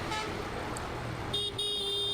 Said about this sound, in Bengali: ওই যে নোয়াখালীর বাস চলে যাচ্ছে আমাদের ফালায়া।